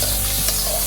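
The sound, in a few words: frying sambar chilli powder in a pan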